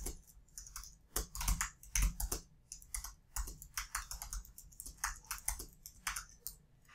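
Typing on a computer keyboard while setting up a group in vRealize Orchestrator 8, quick irregular key clicks and taps in close, quiet bursts with short pauses.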